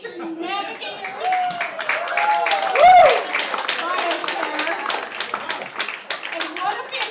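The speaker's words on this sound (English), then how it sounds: "Let's applaud both teams for their energy, their insights, and a special congratulations to the winning team" An audience at a Climate Week NYC showdown event claps and applauds, a dense, steady patter of hands mixed with cheers and chatter, swelling briefly in the middle before settling into continued clapping.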